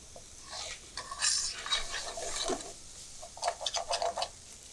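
A spoon stirs potato and capsicum curry with onions and tomatoes in a pan, giving light scraping and soft sizzling in short bursts, with a brief cluster of quick strokes near the end.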